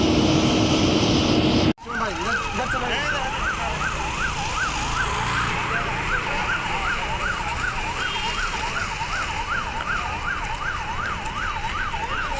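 Fire engine sirens wail steadily at a chemical and rubber factory fire, a loud continuous rising-and-falling siren after a brief cut, with traffic rumble underneath.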